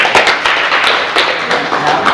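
A crowd at a high school graduation hypnosis show applauds steadily, with dense overlapping clapping that stays fairly loud and even for a couple of seconds.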